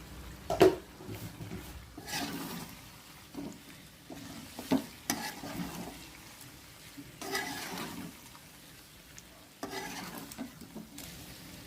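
Chicken stir-fried with ginger-garlic, chili powder and salt sizzles in a pan, with repeated scraping strokes of a spatula and occasional knocks against the metal, close and steady with no talking.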